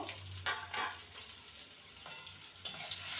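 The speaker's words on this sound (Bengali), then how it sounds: "আলুটাকে ভালো করে ভেজে নিতে হবে" Quiet, steady sizzling of potatoes frying in a pan with salt and turmeric, broken by scraping stirring strokes at irregular intervals.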